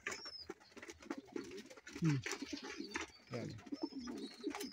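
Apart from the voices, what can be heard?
birds, likely pigeons, cooing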